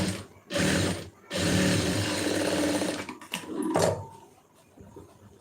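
A sewing machine stitches the band of a lined blouse in short runs, two bursts of rapid mechanical whirring and clatter separated by pauses, followed by a shorter run and quieter handling sounds; no speech.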